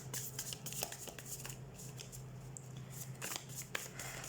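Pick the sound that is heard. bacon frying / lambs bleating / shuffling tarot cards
shuffling tarot cards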